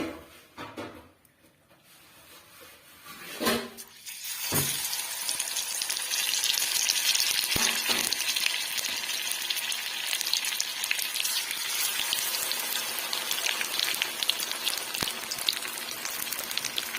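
Pumpkin flower fritters dropped into hot oil, a few clattering knocks at first, then a loud, steady, crackling sizzle of frying that continues unbroken with occasional sharper pops, close up and without talking.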